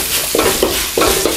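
Sausage fried rice is stirred and fried in an oily pan, the spatula scraping and turning the rice in short rhythmic strokes over a steady sizzle, close and fairly loud.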